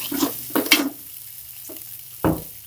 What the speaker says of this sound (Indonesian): Kemudian bumbu yang tadi yang kedua digoreng kayak semacam ditumis